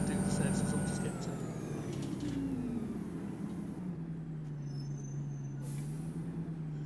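A Volvo Olympian NC Alpha double-decker bus in OMSI 2 slowing hard, its engine note falling under a steady drone while a brief high air-brake hiss sounds near the end.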